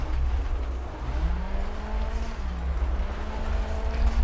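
A rally car on a gravel stage in EA WRC at Rally Greece, its engine droning steadily with rising and falling pitch as it changes gears, over continuous loose-surface tire rumble.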